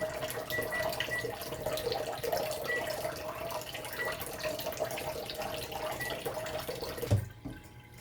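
Tap water runs steadily into a sink as a fresh yellowfin tuna is rinsed under it, a continuous splashing flow with small knocks, cutting off abruptly near the end.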